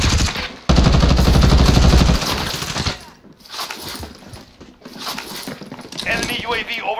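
Rapid automatic gunfire in the shooter video game Call of Duty Warzone, a loud, dense burst lasting over a second, followed by scattered quieter game sounds while a player's excited voice talks over it.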